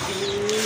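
A pigeon gives a brief low coo, close and fairly clear over faint background hiss, with no talk.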